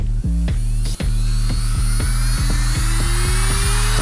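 Handheld rotary carving tool with a drill bit fitted, spinning steadily at high speed to carve a foam pumpkin, a continuous close whine with strong harmonic tone and brief regular clicks, no talking.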